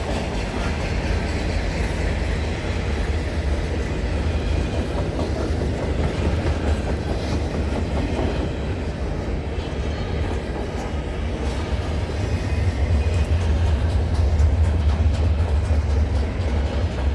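A CN freight train rolls past at night at Snider on the York Subdivision, loud and close, with steady rumbling and the clatter of boxcar wheels over rail joints. Brakes may be applied, and there is no talk.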